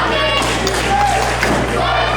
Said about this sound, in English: The fans cheering on Rocket.